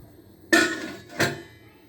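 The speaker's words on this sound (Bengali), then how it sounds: "এখন আমরা এটা ঢেকে দেব" A lid goes onto a cake pan holding batter on a hot stovetop: one sharp metallic clank, then a second softer clatter a moment later as it settles, close and alone with no talk.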